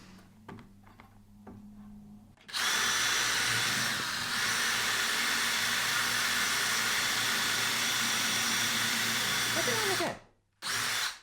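A power drill bores through pieces of wood for a mitre saw stand, a loud continuous whine that starts after a few faint clicks, holds for about eight seconds, then cuts out and briefly restarts.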